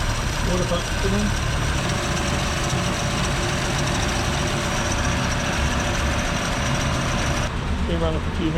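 A Holden LC Torana SL four-door's engine idles steadily after running for a few minutes, a loud continuous low rumble filling the whole stretch, with a person talking over it.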